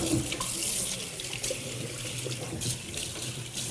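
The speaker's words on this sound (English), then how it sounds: "leave the cold water running for a little bit" Cold water runs steadily from a newly installed kitchen faucet into the sink, a continuous close splashing hiss with no talk.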